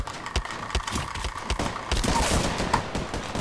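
Gunfire in the battle royale shooter Apex Legends, a rapid burst of sharp cracks and thuds in quick succession, with clattering rattles building into denser firing toward the end.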